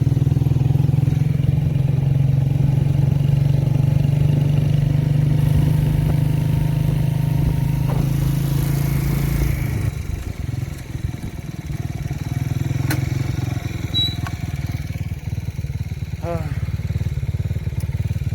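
Motorcycle engine running steadily on a dangerous mountain road, a loud continuous low drone with rumble and clatter, easing briefly about midway before picking up again.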